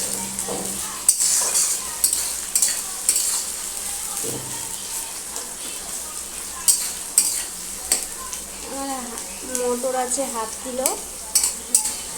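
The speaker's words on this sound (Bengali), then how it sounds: "এবার আমি পেঁয়াজ কুচিটা দিয়ে দেবো" Chopped onion, two large ones, drops into hot oil already holding cumin, dried red chili and bay leaf, bursting into a loud sizzle that settles into steady frying under repeated scraping and stirring of a spoon against the pan.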